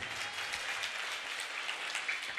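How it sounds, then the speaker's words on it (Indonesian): Audience applause at a religious training session, a dense steady wash of many hands clapping together for a couple of seconds, fairly distant and even. "Tepuk tangan semuanya."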